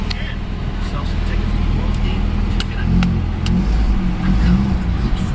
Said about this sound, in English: Not gonna rev it too much, it's only got a little 4-cylinder.